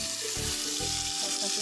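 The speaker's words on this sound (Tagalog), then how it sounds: "Iprito ko lang siya." Flour-coated milkfish (bangus) with garlic frying in a pan, a steady close hiss and crackle of oil throughout, with faint clinks and no one talking.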